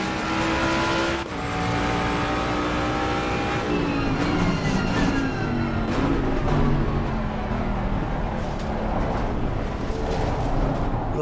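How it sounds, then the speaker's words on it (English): A Mustang race car in Assetto Corsa Competizione roars through its gears, the engine note climbing and dropping repeatedly with brief tire squeal, loud and continuous with no talking. "it's a Mustang, so it's going to sound low as hell, isn't it?"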